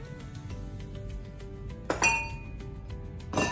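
Granulated cane sugar, baking powder, salt and cinnamon are stirred together in a bowl for sourdough cinnamon graham crackers, giving a few sharp clinks of utensil against the bowl over a quiet hum.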